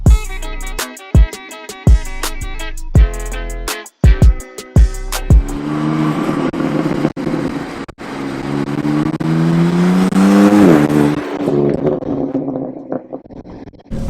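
2018 BMW M3 Competition Package engine while driving: sharp revving bursts with pauses in the first few seconds, then a loud, continuous engine drone building and falling away near the end.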